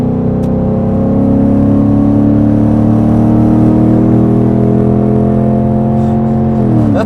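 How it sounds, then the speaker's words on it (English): Smooth, steady engine drone from a Lexus LS400 cruising at highway speed, loud and continuous with sustained harmonic tones that dip slightly near the end, no talking. "You just don't expect this car to sound like that."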